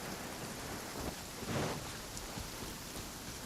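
Rain in the video game Genshin Impact, a faint, steady hiss of falling rain with a soft swell partway through, distant and alone.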